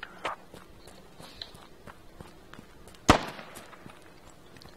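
Gunfire in the military shooter Squad: faint distant shots and small impacts scattered over quiet ambience, with one sharp, loud nearby report standing out near the end, no talking.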